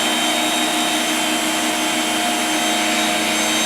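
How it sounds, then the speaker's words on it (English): A Work Sharp powered belt knife and tool sharpener honing a blade edge, giving a loud, continuous motor whine with belt hiss that holds steady throughout. "So now I'm just going to hone this tip up."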